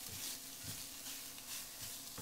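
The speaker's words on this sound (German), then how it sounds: "Jetzt kommen schon meine Linsen dazu. Die lasse ich im Prinzip auch mal kurz mit anrösten." Black lentils sizzle while they roast in a frying pan for a gluten-free spaghetti bolognese, with steady frying hiss and soft stirring scrapes close by. No one speaks.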